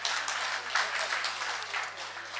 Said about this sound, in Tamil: இங்கே உள்ள அனைத்து மகளிர்களுக்கும் நம்ம பெரிய கைத்தட்டல் கொடுத்தே தீரணும்